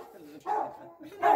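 A dog indoors barks twice in short, muffled woofs close by, mixed with people talking.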